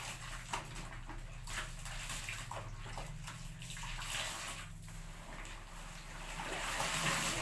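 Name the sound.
water running while washing cooking pots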